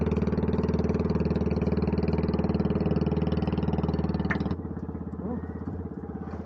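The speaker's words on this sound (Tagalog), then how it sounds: "Dumaan ang motor." Steady motorcycle engine drone close by, holding level, then dropping away quieter after a few seconds as it moves off.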